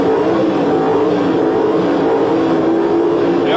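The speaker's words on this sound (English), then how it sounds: "The RPM climbing at the starting line" Chevrolet and Mopar Pro Stock drag cars at the 1978 NHRA U.S. Nationals in Indianapolis rev hard at the starting line, a loud, sustained, rising engine roar filling the whole stretch.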